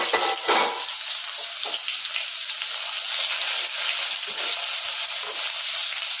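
Chopped onion sizzles steadily in hot oil in a wok-style kadai, a loud continuous hiss and crackle of frying with a few stirring scrapes, no voices.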